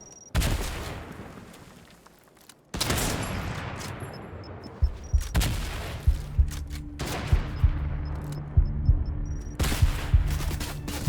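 Sniper rifle fire in Fortnite: several sharp, booming shots with long decaying tails, followed by a series of quicker, lighter reports spaced irregularly across a steady hiss of game noise.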